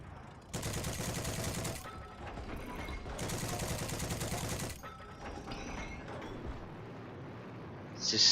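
Rapid automatic gunfire in the video game Frontlines sounds in two loud, sustained bursts of several seconds each, followed by quieter scattered shots and mechanical clatter.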